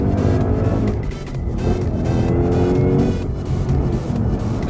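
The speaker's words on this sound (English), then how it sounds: "here's a little second gear pull with 670 horsepower" A 2017 Ford Mustang GT with 670 horsepower accelerating hard in second gear, a loud close engine roar climbing steadily in pitch with no one talking.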